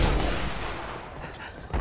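Rapid gunfire rattles through a Halo match, a dense, loud burst of overlapping shots that runs for a moment and fades slightly, with a faint voice beneath.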